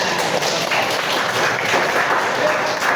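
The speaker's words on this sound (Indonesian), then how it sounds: "Oke, beri tepuk tangan" A school class applauds together, a dense burst of clapping filling the room for a few seconds at close range.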